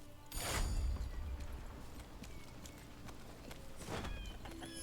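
A horse in the video game Lost Ark clip-clops faintly in two short bursts of hoofbeats, one near the start and one near the end, over a quiet game background.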